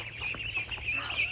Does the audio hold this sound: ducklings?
yes